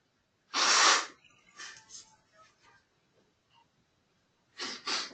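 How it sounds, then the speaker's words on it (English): A person living with two dogs sneezes once loudly and sharply, followed by faint breathing and sniffles, then two quicker sneezes close together near the end, all close to the mic. "When you live with 2 dogs, you're always sneezing."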